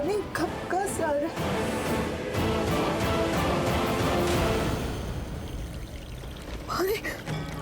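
Water pours and splashes continuously, flooding in with a rushing, trickling wash under frantic shouting voices of people in distress in a television drama scene.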